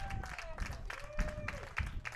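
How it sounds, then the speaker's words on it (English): Stars fans at a baseball game against the Minot Vistas cheer and clap, a loose, rhythmic patter of applause from a modest crowd heard under a commentator's continuous talk. "that gets some smiles and cheers and claps from the Stars fans"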